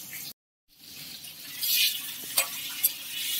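Potatoes and drumsticks (sajne danta) frying in a pan, a hissing sizzle that cuts out briefly near the start, then returns and swells, with a couple of sharp crackles or utensil taps later.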